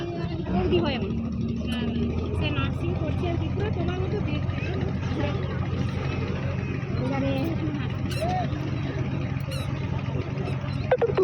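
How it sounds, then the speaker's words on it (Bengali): A steady, loud engine drone fills the whole stretch on a river, likely from a motor trawler near the jetty, with a voice talking over it and faint crowd murmur around. "আর এদিকটা ট্রলার দেখো"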